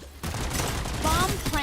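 Video-game gunfire crackles in a dense, steady barrage during an attack, loud and close, with other game sounds layered on top.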